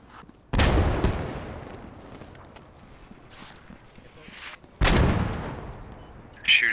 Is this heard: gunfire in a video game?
yes